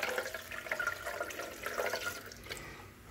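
Water poured in for a seed sprouted tea, a continuous splashing trickle with gurgling rises and falls that fades slightly toward the end, close and clear without speech.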